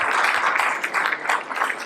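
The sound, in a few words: audience applause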